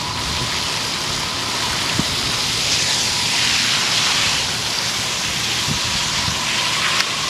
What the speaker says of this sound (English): I'm trying to move the dirt around a little bit with my sprayer.